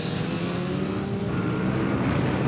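A motorcycle engine howls steadily on a race circuit, a loud, sustained rasp with a faint rise in pitch and no talk over it.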